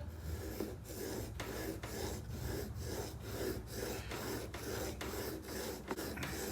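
A chisel bevel held in a Veritas MK2 honing guide is pushed back and forth on a sharpening stone, giving a steady rhythmic rasping scrape with a short stroke about twice a second, close and even, with no talk.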